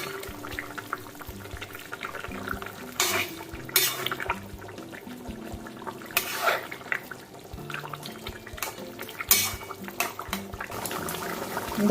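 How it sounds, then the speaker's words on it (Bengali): Fish curry gravy for a katla fish jhal with winter spring onions bubbles in a pan, a steady soft simmering texture with occasional louder clinks and scrapes of a utensil, no talking. "ঝোল খুব ভালো করে ফুটে উঠেছে দেখো"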